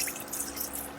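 Chicken stock poured into a pot on an induction plate for shrimp and grits, a soft, steady liquid trickle and splash heard close and fairly quiet, with no talking over it.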